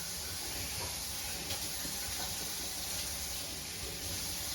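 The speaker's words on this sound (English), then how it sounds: "I'm just gonna do a quick rinse of my hands." Tap water running steadily over hands at a kitchen sink during a rib roast cook, a faint, even hiss with no break for several seconds.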